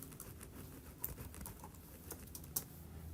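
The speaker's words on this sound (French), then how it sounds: "je vais taper la commande rapidement" Rapid clattering keystrokes on a computer keyboard as a router command is entered, close and continuous with a few louder key strikes.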